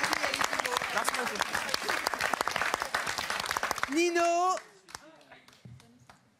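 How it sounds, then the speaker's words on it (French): A studio audience at a French comedy talent show applauds the comedians with brisk, full clapping. It cuts off as a host speaks, and a few scattered claps linger afterward. "on peut les applaudir aussi"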